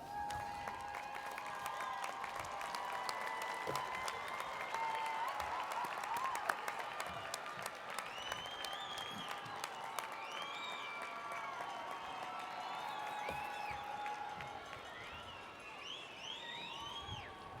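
Graduates at a fall college convocation applaud their friends and families, a steady spread of clapping from a large seated crowd at moderate distance, with faint whistles and scattered cheers rising near the end.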